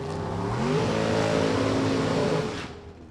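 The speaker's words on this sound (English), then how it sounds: "Sounds like he was immediately on the throttle stop. Must have a big engine in there." Super Comp drag race car with a big engine held on the throttle stop at a drag strip test and tune, a loud sustained engine roar that fades after a few seconds.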